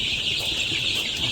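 Chickens on a village poultry farm cluck and chatter after feeding, a dense, close, continuous flock noise with overlapping calls and no pauses.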